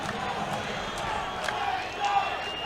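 Stadium crowd roaring and cheering at a women's American football game, a steady wash of many voices with a few sharper yells, heard in the distance behind the noise.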